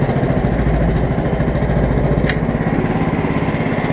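An 11 hp Honda engine on a 1959 Case 700 tractor idles close by in a steady, even putter with a regular pulsing rhythm, plus one brief sharp tick midway.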